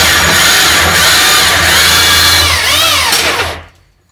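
A loud electric drill whirs steadily with a rising and falling pitch, then winds down and cuts out near the end.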